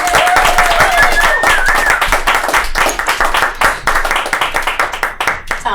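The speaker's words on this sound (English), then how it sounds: "Give a round of applause for Katie Zane." A comedy club crowd at Shakers claps for a comedian, starting as a loud burst of many hands and thinning into scattered, uneven claps as it fades out over several seconds.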